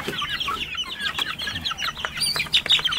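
Hungry roundhead, sweater and gilmore gamefowl at feeding time, a dense overlapping chorus of clucks and squawks, close and steady throughout.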